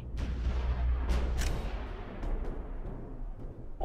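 Sustained light machine gun fire in the video game Ghost Recon Future Soldier, a dense rumbling burst of gunfire with sharp cracks near the start and a steady loud roar throughout.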